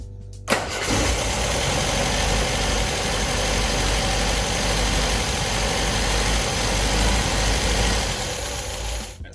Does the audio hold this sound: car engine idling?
yes